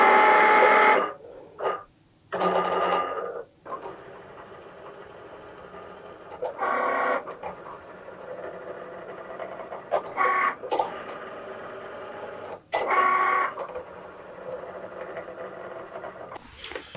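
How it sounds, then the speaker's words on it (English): A Cricut machine cuts printable vinyl labels with bursts of whirring and buzzing carriage movement, separated by short pauses and clicks, close and moderately loud with no talking. "I can load my mat into my Cricut. Then just press the C to start cutting."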